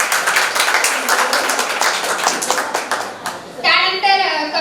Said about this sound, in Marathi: एकदा जोरदार टाळ्यांनी स्वागत करूया कवयित्री सौ सविता काळे.